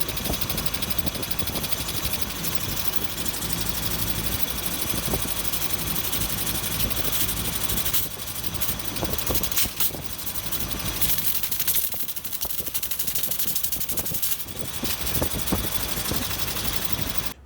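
The air suspension compressor on a 1972 Mercedes 300SEL 4.5 chugs in a fast, steady mechanical pulse, close and continuous, with a brief dip partway through.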